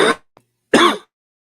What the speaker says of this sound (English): Didn't mean to cough like that.